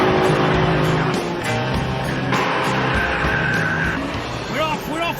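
Engines revving hard and tires squealing as cars pull away at a race start, loud and close, with a rising engine note and excited talk over the din.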